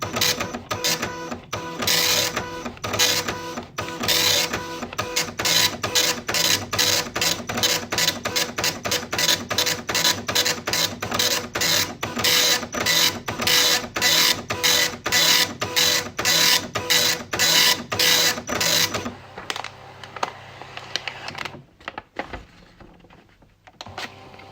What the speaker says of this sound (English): So here you've got dot matrix printer.